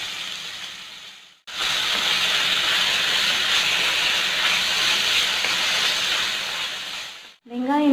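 Sliced onions hit hot oil with fennel seeds, setting off a loud hissing sizzle that starts abruptly, holds steady for several seconds, then drops away as a voice begins.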